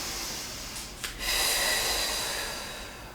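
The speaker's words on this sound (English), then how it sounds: "Take a deep breath into your abs." A single deep inhale and exhale during a Pilates workout, with a brief sharp sniff followed by a long breathy airflow close to the microphone.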